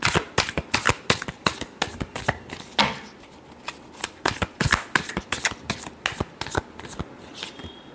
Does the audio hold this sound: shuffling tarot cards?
yes